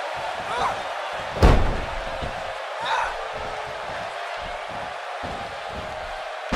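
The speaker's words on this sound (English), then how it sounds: "She slams her down with great force." In the WWE 2K18 wrestling video game, a wrestler is slammed onto the ring mat with a single heavy thud, followed by a softer impact, over steady arena crowd noise and commentary.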